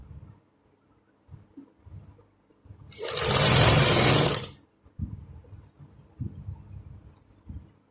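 A sewing machine stitches a plain kurti in one steady burst of about a second and a half, loud and close, set between quieter handling noises and faint rustling of fabric.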